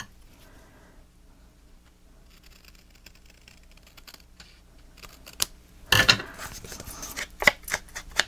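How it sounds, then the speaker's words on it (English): Scissors cut down a sheet of paper while making a photo album, a quiet rustle followed by several sharp snips and crisp cuts clustered near the end, close and alone. "And now I'm going to have to cut this down as well."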